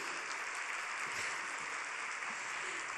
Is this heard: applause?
yes